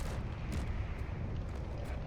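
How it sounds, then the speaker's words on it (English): Artillery guns firing in Space Engineers, a dense roar of distant booms and short bursts over a heavy continuous rumble, with no talking. "But they are mainly artillery guns."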